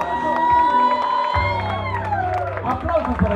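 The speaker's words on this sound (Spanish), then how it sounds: "¡Aplausos!" Party guests at a quinceañera cheer and clap amid loud crowd noise, with festive music and voices mixed in, dense and close throughout.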